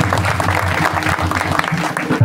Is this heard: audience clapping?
yes